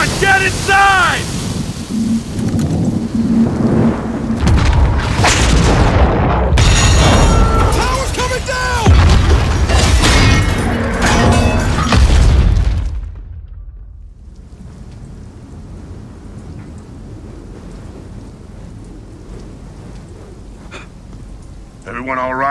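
Roaring storm wall in the video game Gears of War 4, heavy rain and wind with rumbling thunder-like bursts and shouting voices, loud for about twelve seconds before subsiding to a quieter wind hiss.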